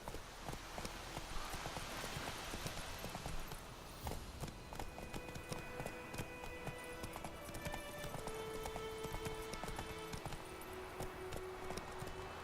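Roach the horse gallops with quick, even hoofbeats through a Witcher video game scene. The clip-clop is steady but fairly quiet, with soft game ambience behind it.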